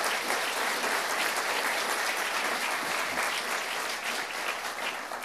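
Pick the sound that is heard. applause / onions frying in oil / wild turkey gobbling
applause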